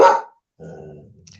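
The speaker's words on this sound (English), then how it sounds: "seen us out with a flipping bark" A pet dog lets out one loud, close bark, followed after a short pause by a lower, quieter growl that trails off, with no talk over it.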